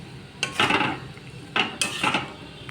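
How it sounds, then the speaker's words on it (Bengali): A spoon scrapes and stirs jaggery cooking in a pan for an amla pickle, in three short rasping bursts separated by brief pauses, close and fairly loud. "আর ভালোভাবে এটাকে নাড়াতে থাকতে হবে এই মুহূর্তে"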